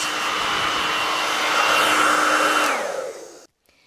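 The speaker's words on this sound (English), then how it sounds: "And now let's check it when I use the Babyliss dryer instead" A loud, steady Babyliss hair dryer roars with a high whine, then winds down in pitch and cuts off, leaving near silence at the end.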